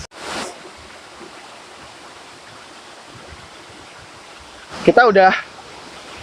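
Waterfall at Curug Orok below Curug Cibulao in Bogor, heard as a steady broadband rush of falling water that carries on throughout, with voices briefly talking over it at the start and near the end.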